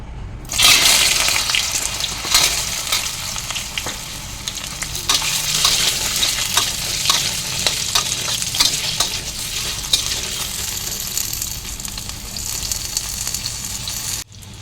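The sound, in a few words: taro pieces frying in oil in a wok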